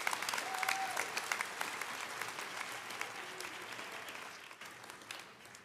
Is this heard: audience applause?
yes